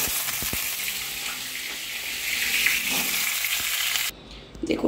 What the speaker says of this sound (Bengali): ভেজে নেব লাল লাল করে।